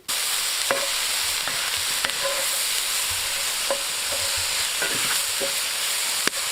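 Morel mushrooms and red onion sizzle steadily in butter in a pan, a close, even frying hiss broken by occasional scrapes and taps of a spoon as they are stirred.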